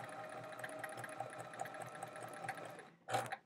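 A sewing machine runs steadily while chain piecing half-square triangles for a quilt, a continuous close whirr with a brief louder burst near the end.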